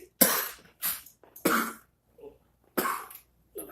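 Repeated coughing after smoking, a series of about five rough, raspy coughs in an irregular rhythm with short gaps between them, close to the listener.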